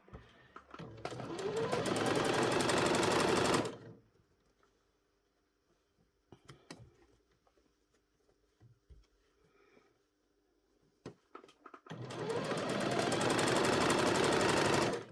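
A sewing machine stitches elastic onto a sweatshirting waistband in two loud, rapid bursts, one at the start and one at the end, separated by a quiet pause with light handling noises.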